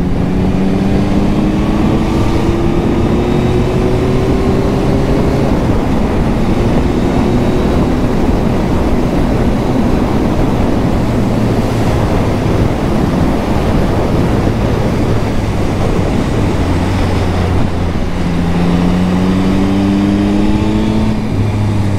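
Yamaha MT-09 2022 motorcycle fitted with its stock exhaust, ridden on the road with engine tone rising and falling through gear changes, constant and loud, mixed with heavy wind rush.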